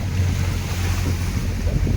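Strong sea waves surging in a steady roar, with heavy wind buffeting the microphone and a boat engine droning low beneath.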